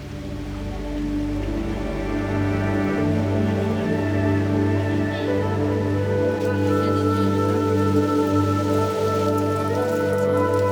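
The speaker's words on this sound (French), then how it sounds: "il a commencé à pleuvoir, il y avait beaucoup de vent" Steady rain patters down with a constant rushing wash, and a low rumble of gusting wind underneath, in Langkawi; no one speaks.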